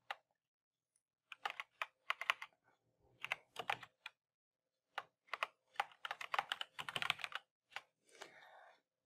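Clattering keystrokes on a computer keyboard, typed in quick bursts with short pauses between them, close and clear with no talking.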